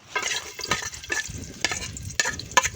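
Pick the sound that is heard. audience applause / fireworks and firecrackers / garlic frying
garlic frying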